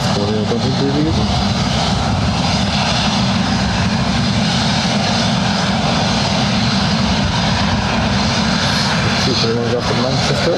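A Condor Airbus A321 jet at Lanzarote Airport roars steadily and loudly throughout in sunny weather, a broad continuous engine noise with faint voices underneath.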